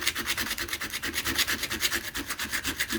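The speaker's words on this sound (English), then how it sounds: "if you just take your sandpaper again or whatever you're using" Sandpaper rubs layers off an old lead pipe in quick, even back-and-forth strokes, a close, raspy scratching rhythm with no talk.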